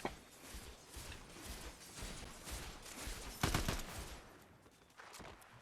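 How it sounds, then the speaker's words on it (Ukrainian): Bursts of rapid gunfire in the Fortnite video game, fairly quiet overall, with rattling volleys running throughout and one sharper, louder burst past the midpoint before it fades slightly. "Вони вже по мені стріляють."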